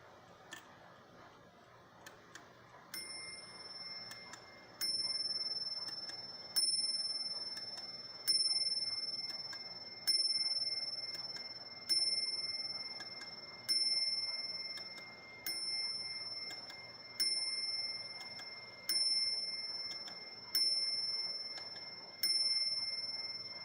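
An antique clock strikes twelve, bright metallic chimes at an even, unhurried pace, each decaying before the next, over a faint background hum.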